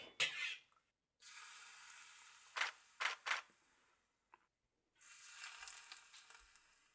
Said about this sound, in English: I'm just gonna carefully sizzle the garlic